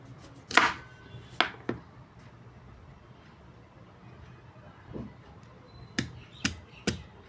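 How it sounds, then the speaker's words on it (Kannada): A knife chops through raw green mango on a cutting board, giving a handful of sharp, close cuts: two early strikes, a pause, then a quick run of three near the end. "ಈಗ ಬರಾಬರ ಕಟ್ಟಿಂಗ್ ಮಾಡೋ ನೋಡಿತದ್ರಿ ಮಾವಿನಕಾಯಿ ಕಟ್ಟಿಂಗ್"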